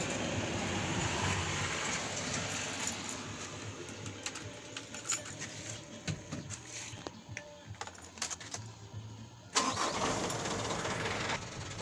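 A sand-hauling truck's engine cranks and starts, then runs with an uneven mid-pitched rumble that surges louder near the end, heard at moderate distance with no talking.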